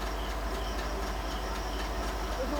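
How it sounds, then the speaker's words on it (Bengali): A passenger train rumbles steadily as it slows to a stop at a station, with a constant low rolling drone and faint rattling of the carriages. "ট্রেন থামলেই আমরা নামবো"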